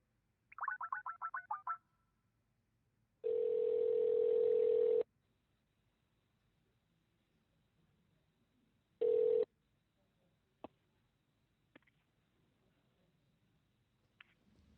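Telephone dial tone after a call is cut off: a steady electronic tone holds for about two seconds, then a shorter burst follows, with a few faint clicks around it and no voices.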